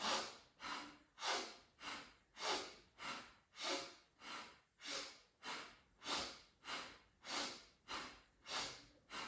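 Rhythmic, close breathing through the nose during a post-illness breathing exercise, with about a dozen even inhale-exhale cycles in a steady, deliberate pace and no talking.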